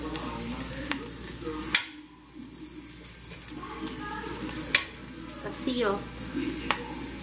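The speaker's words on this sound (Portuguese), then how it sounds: "o bacon já tá bem fritinho, bem douradinho" Bacon fries in a pan with a steady, soft sizzle, cut by a few sharp utensil clicks and taps. A person speaks briefly over the quiet crackle.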